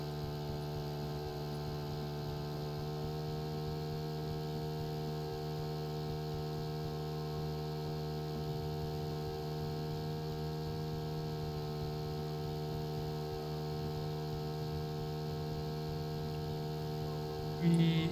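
A truck engine in the Stormworks video game whirs in a steady, even hum with a faint buzzing texture, unchanging for the whole stretch with no voices.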